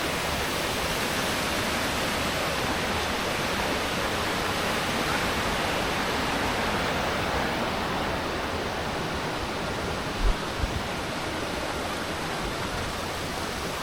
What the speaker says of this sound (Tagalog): Marami talagang mga waterfalls dito guys.